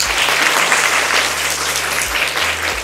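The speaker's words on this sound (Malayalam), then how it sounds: "ഓക്കെ ആണെങ്കിൽ നല്ലൊരു കൈയടി." Students in a NEET repeaters batch class clap together in a loud, dense burst of applause that holds steady for nearly three seconds, with a low hum running underneath.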